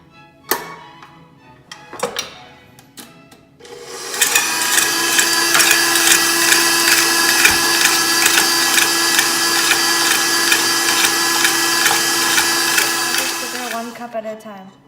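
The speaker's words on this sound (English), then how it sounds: "First, you add the butter and start creaming it." After a few taps and knocks, an electric mixer starts up and whirs steadily for about ten seconds, creaming butter for macaron frosting, then winds down at the end.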